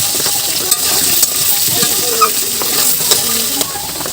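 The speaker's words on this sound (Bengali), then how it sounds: "সবার প্রথমে আলুগুলো ভেজে নেব।" Potatoes fry in a pan with salt and turmeric, giving a steady loud sizzle with faint clinks of a spoon stirring throughout.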